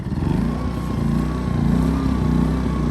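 A Westinghouse iGen 2500 inverter generator starts on a pull and runs with a steady, loud, close mechanical engine drone, a small-engine buzz that holds even throughout without pause.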